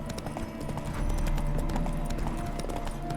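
Horse hooves clip-clopping steadily with occasional snorts, from The Witcher 3: Wild Hunt – Hearts of Stone, the horse spooked by ghosts near a mill; the hoof beats stay close and continuous over a soft ambient game backdrop.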